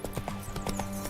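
Rapid clip-clop of horse hooves trotting in the video game The Witcher 3: Wild Hunt, a brisk even rhythm of several close, clear hoofbeats in a short burst.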